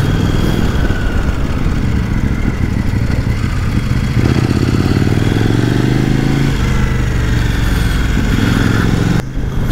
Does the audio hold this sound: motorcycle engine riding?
yes